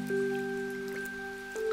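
Rain falls steadily in Rain Town in the video game Omori, a soft continuous patter under sustained tonal game music, with a few faint drips standing out.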